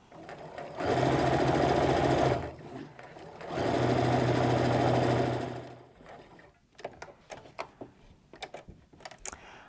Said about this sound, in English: Now we're going to sew that 1/4 inch seam or 1/2 inch seam